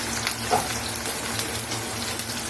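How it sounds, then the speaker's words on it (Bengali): Onions frying in a pan for a Bengali home-cooked vegetable dish give a steady, close hiss of sizzling oil with small crackles throughout, and no one speaks. "এখন আমি এটার ভিতরে পেঁয়াজ দিয়ে দিব।"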